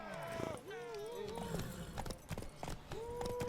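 A horse gallops in a race in the video game The Witcher 3, its hooves clip-clopping in a quick rhythm under speech and shouted voices.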